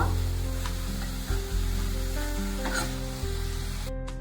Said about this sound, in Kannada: ಈರುಳ್ಳಿ ಈ ಹದದಲ್ಲಿ ಚೆನ್ನಾಗಿ ಫ್ರೈ ಮಾಡ್ಕೋಬೇಕು ಜಾಸ್ತಿ ಬ್ರೌನಿಶ್ ಮಾಡ್ಕೋಬಾರ್ದು